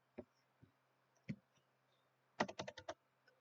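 Keys clacking on a computer keyboard during stock-chart lookup, with a few scattered single presses and then a quick burst of five or six sharp clicks ending in an enter keystroke, close and fairly quiet.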